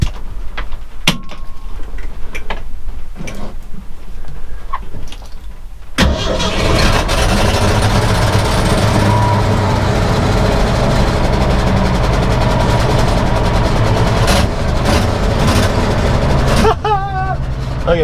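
A 1976 dump truck engine cranks after a few quiet clicks and knocks, catches, and settles into a loud, steady rumbling idle that runs continuously before dropping off near the end.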